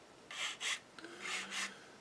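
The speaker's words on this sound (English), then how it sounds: "give it a go over with a coarser sander" A coarse sander rubbed over a Spitfire scale model, four short raspy strokes in two pairs, close and quiet with no talking.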